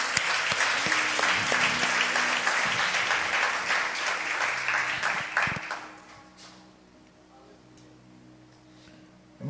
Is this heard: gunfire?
no